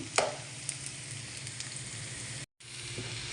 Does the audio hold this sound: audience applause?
no